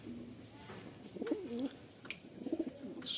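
Pigeons kept for sale coo softly at close range, giving a few low, rolling coos with quiet rustling between them.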